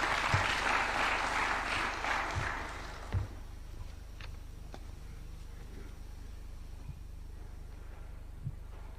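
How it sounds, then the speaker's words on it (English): An audience at a University of Nairobi innovation launch attended by Kenya's president claps to welcome a visiting minister, a full round of applause that fades after about three seconds and leaves a quiet room with a few scattered knocks. "Why don't we welcome him with a warm clap?"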